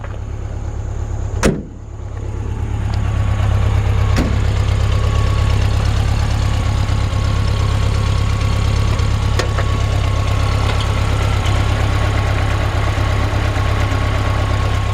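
Air-cooled engine of a 1978 VW Beetle convertible, recently serviced and fitted with a carburetor, idles steadily and close by, a loud rough low rumble following a brief knock or door clunk near the start.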